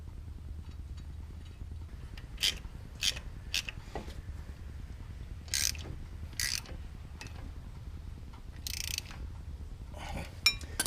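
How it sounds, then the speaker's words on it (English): An old brake rotor comes off a 2012 Land Rover LR2 and a new one goes on, heard as intermittent metallic scrapes, clinks and rattles over a low steady hum, close and moderately loud, no speech. "Now it's as simple as pulling the old rotor off and putting the new rotor on"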